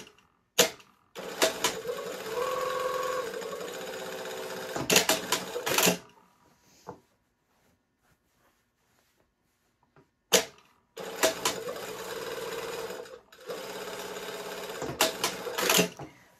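A sewing machine top stitches a shirt dress yoke a quarter inch from the seam in two close, even runs, separated by a silent pause with a few clicks.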